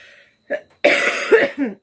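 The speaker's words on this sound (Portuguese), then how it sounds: "Essa tosse vai se extinguir, tá em período de remissão." A short throaty cough, then a burst of harsh, raspy coughing from a man that rises and trails off, close to the microphone.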